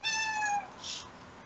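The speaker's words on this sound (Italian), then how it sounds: "Questo era un miau? Sì, ho un gatto in crisi" A house cat gives one short, clear meow up close, followed by a brief faint breathy noise and then quiet room tone.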